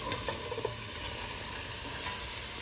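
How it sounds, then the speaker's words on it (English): Onions sizzling and frying in a pan for French onion soup, a steady close hiss with a few faint stirring taps. "while the onions are cooking"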